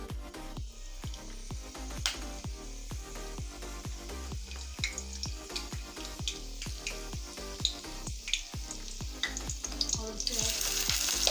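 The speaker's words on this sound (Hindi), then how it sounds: "ऑयल गर्म हो चुका है। अब हम कड़ी पत्ता डालेंगे" Curry leaves dropped into hot oil crackle and sizzle close by, a steady frying hiss with rapid pops and spits throughout, growing a little louder near the end, no talk.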